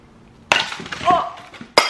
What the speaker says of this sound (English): It's, yeah, shattered everywhere.